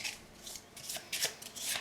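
Several quick bursts of riffling card noise from shuffling a deck for the Heat: Pedal to the Metal board game, close and fairly soft, with short pauses between the bursts.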